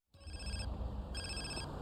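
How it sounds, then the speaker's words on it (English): Phone ringing in the Grand Theft Auto video game, an electronic telephone bell trilling in two bursts with a short gap, clear and fairly quiet with no voices. "And he actually gives CJ this phone call."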